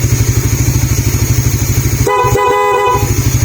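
A loud, brassy aftermarket horn on a Suzuki Raider R150fi motorcycle blares in one long blast with a brief break, over a rumbling idling engine.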